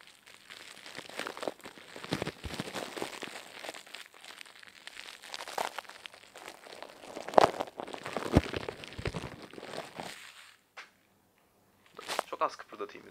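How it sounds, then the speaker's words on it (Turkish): A plastic bag crinkled in the hand as foley for crackling embers makes dense, irregular crackles and rustles that come in bunches, with a brief silent pause before a final crinkle. "ateşin közlenmiş o çıtırdayan sesi vardır ya, onu yapmaya çalışacağım."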